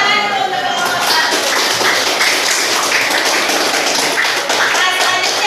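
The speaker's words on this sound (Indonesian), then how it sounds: "tepuk tangan dulu untuk kelompok" A class of students in a biology lesson applauds a group that has just presented, giving dense, steady clapping from many hands throughout, loud and close, with voices mixed into the clapping.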